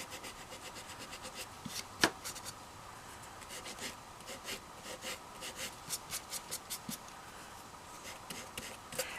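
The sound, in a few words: sanding a doll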